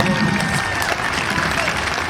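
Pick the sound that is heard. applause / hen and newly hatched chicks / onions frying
applause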